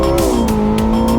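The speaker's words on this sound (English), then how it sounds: "The Nordschleife trembled under the sound of the 918 Spyder." A Porsche 918 Spyder hybrid with a 4.6-litre V8 and two electric motors screams loudly past on the Nordschleife track, its high engine note sliding down in pitch as it passes close by.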